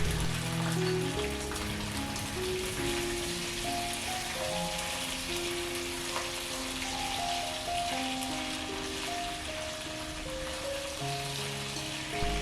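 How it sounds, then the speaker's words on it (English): Spring onion and ginger fry in hot oil with Sichuan pepper for kung pao chicken, a dense steady crackling sizzle like rain on a surface, continuous and close, alone without talk. "Fry it for 10 seconds and we add all the spring onion and the ginger"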